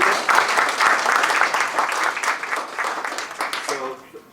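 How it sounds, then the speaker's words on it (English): An audience at a community forum on Chicago's demographic shifts bursts into sustained applause, loud and dense at first, then thinning toward the end as a voice begins speaking over the last claps. "So a round of applause for Demas"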